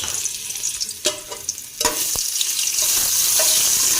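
Garlic-ginger paste sizzles and crackles steadily in hot oil, with a few sharp clinks of a utensil stirring in the pan.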